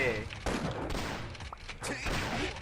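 Bursts of assault rifle fire in Chaos Faction 2 crack in quick succession, loud and close, with short pauses between volleys.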